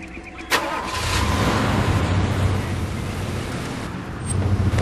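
Car engine in the video game Far Cry 2 turning over and then running steadily at a loud, constant idle with a low rumble, with no talking.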